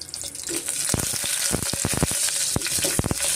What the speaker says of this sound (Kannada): ಇವಾಗ ಹಸಿಮೆಣ್ಸಿನ್ಕಾಯಿ ಸೇರಿಸೋಣ ಸ್ವಲ್ಪ ನಾವು ಫ್ರೈ ಮಾಡ್ಕೊಬೇಕಾಗುತ್ತೆ